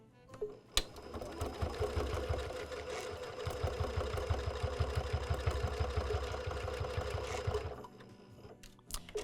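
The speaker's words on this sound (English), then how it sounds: "And then we're going to take this to our sewing machine, and then we're just going to sew over the center point." A sewing machine stitches across the center of a fabric gift bow in one steady run of rapid, even mechanical clatter lasting several seconds, framed by soft handling clicks before and after.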